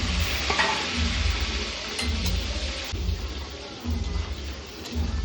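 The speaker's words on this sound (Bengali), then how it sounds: "আলুগুলো ভেজে তুলে নাও তুলে নিচ্ছ ভালো করে ভাজবে" Potatoes frying in hot oil, a dense continuous hiss like rain with a few clinks and faint background voices, fairly loud and close.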